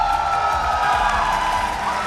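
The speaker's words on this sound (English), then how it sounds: "a round of applause." Crowd cheering and applauding at an MPL Malaysia Mobile Legends esports match after a 2-0 clean sweep, a dense, steady roar of claps and shouts sustained throughout, loud and continuous with no talk on top.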